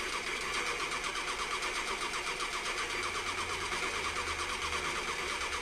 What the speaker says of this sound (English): I do like the sound effects on the Vulcans